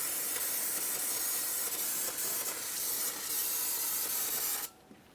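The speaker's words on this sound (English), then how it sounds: "you need to use some parts cleaner and clean up any of this mess" Parts cleaner sprayed from an aerosol can around the brake master cylinder of a 2010-2013 Kia Forte Koup, a steady, close, loud hiss lasting several seconds before cutting off abruptly.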